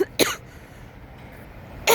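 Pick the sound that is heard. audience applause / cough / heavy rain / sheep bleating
cough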